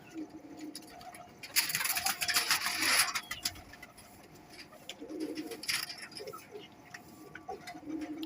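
Pigeons, golden kamagar birds, coo softly in low throaty phrases nearby, joined by louder rustling or wing bursts and clatter in the middle, with no talk.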